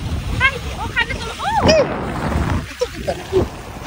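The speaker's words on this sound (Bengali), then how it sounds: "কি পরিমাণে বাতাস আর কি পরিমাণে ঢেউ।" Strong wind buffets the microphone and sea waves surge and splash at Cox's Bazar beach, with people talking and exclaiming over the constant roar.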